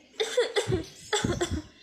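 Two rough, harsh coughs from a woman, each a short burst with a raspy tail, close and fairly loud with a brief gap between them.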